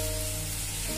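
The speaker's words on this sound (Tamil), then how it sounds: "அதோட நம்ம ஆல்ரெடி கட் பண்ணி வச்சுருக்கிற தக்காளியும் சேர்த்து நல்லா வதக்கி வச்சுக்கலாம்" Onions and tomatoes sautéing in a pan for a mutton kulambu, giving a steady, close hiss of frying that holds evenly throughout, with no voices over it.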